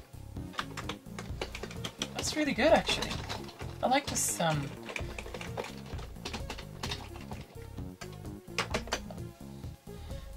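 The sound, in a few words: typing on Amiga 500 keyboard during keyboard test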